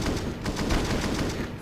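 Rapid gunfire from a Counter-Strike match fills a short dense burst, with overlapping shots crackling loudly and continuously against the roar of a busy game.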